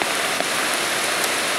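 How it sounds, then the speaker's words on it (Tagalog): Heavy rain pours steadily onto surfaces outdoors while people are on their way home, a dense, continuous hiss with scattered drop impacts, loud and close, with no talking. "Ayan, lakas ng ulan guys."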